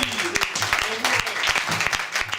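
An improv theatre audience applauds the orange team, dense, lively clapping from a full room with a few louder claps standing out, no speech over it.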